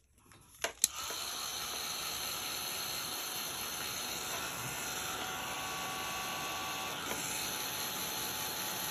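Heat gun drying stamping ink starts with a couple of clicks, then blows a steady close hiss and whir that runs unbroken to the end, with no talking.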